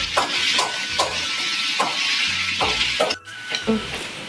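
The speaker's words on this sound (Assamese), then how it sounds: "এয়া মাংস ফ্ৰাই কৰি থকা হৈছে" Duck meat fries in a pan, a steady bright sizzle broken by repeated scraping and knocking strokes of a stirring utensil, close by and without talk.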